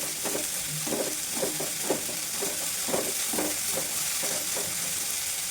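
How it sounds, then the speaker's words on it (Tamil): Onions sautéing until golden in a pan of oil for a cumin kuzhambu: a steady close sizzle with repeated soft scrapes of a spoon stirring every second or so, alone without voices. "வெங்காயம் நல்லா பொன்னிறமாக வதங்கிடுச்சு"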